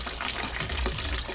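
Water gushes steadily from a household tap into a container at a home where the water supply has just been reconnected, a continuous close splashing rush with no talk.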